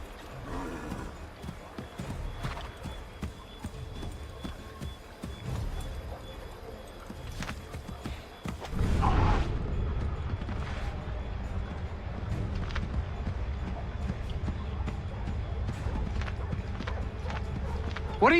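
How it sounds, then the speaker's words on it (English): In Assassin's Creed III Remastered, horse hooves clip-clop in a steady trotting rhythm, getting louder and busier about halfway through, with voices talking over parts of it. "Get back on the horse, Connor."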